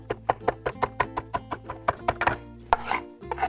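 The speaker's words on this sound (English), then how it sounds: "I'm just gonna keep running my knife through" A knife chops food into small pieces on a cutting board after it has been cut into big chunks: a steady run of sharp, close knocks, about four to five per second, fairly loud and alone, slowing near the end.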